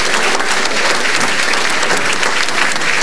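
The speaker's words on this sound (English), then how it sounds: "If you give Marshall a round of applause also." Steady, loud applause from a seated audience at a 1991 Glendora Citizen of the Year ceremony, honoring a man named Marshall; dense clapping fills the whole stretch evenly without voices rising above it.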